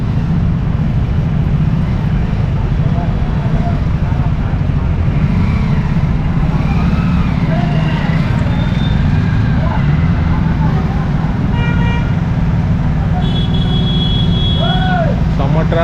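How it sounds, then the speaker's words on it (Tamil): Heavy road traffic crowds a narrow street in Ayodhya, with a dense, constant rumble of cars and engines close by and scattered horn toots rising above it, while voices talk underneath. "செம்ம டிராஃபிக்குங்க."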